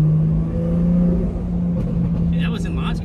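BMW G80 M3 launching hard in launch control on a street, a loud engine surge with a steady droning note and tire slip, voices chatting over it near the end.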